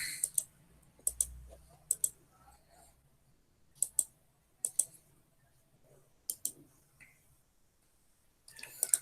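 Computer mouse clicking while working in a spreadsheet: quiet, sharp isolated clicks, single and in quick pairs, spaced irregularly over a near-silent background.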